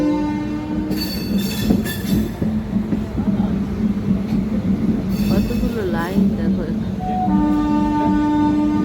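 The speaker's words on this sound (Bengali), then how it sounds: "দেখো আমাদের কিন্তু হাওড়া থেকে ট্রেনটা ছেড়ে দিল" A train pulls out of Howrah station in a steady rumble of rolling wheels and carriages, with squealing tonal whines and brief horn-like notes; faint voices are heard under it.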